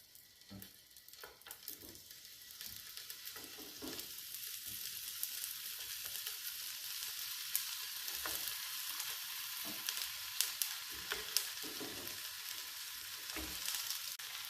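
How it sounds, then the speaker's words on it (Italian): Zucchini laid in a pan brushed with extra virgin olive oil starts to sizzle, with a soft clatter of pieces being placed and then a steady, moderately loud frying hiss underneath. "Spennello il fondo della padella con un pochino di olio extravergine di oliva e adagio le zucchine in padella."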